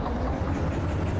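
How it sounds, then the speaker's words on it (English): Locomotive engine in the train simulator game Derail Valley, a steady low rumbling drone that holds even and fairly loud throughout, with no voices. "Listen to the engine."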